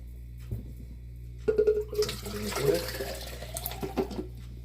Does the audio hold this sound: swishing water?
yes